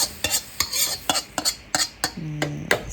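Cabbage stir-fried with fish sauce in a pan, a spatula scraping and tapping in quick, irregular strokes over a soft sizzle, close and fairly loud, with a brief low hum near the end.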